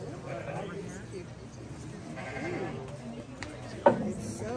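Sheep on a muddy family farm bleat a few times at moderate distance beneath ongoing conversation, with one sharp knock near the end.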